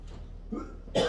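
A single short cough near the end, close and fairly loud, after a brief quieter breathy sound.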